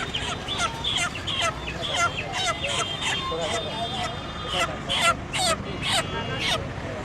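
Live chickens cluck and gobble in repeated bursts amid crowd chatter at a poultry market in Chittagong, several birds calling close by over a busy, noisy background.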